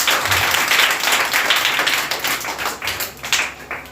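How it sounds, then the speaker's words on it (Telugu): Children's audience at a Christmas candle-lighting church service clapping together, a loud, fairly close burst of dense applause lasting a few seconds, rising and falling without talk. "చప్పట్లు కొట్టిన ఒకసారి."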